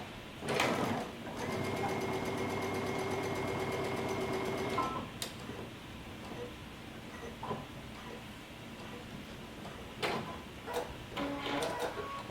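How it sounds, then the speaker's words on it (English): A sewing machine runs steadily while stitching the back waistband of a pants pattern at a 5/8 inch seam allowance, a close rapid mechanical whir in one long run, followed by softer handling clicks and fabric rustles. "I'm going to be stitching it together using 5/8 of an inch seam allowance, only on one side"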